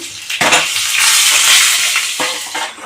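Loud, steady crackling sizzle of dried red chillies, cumin and mustard seeds frying in hot oil, with a couple of sharper bursts as more goes into the pan.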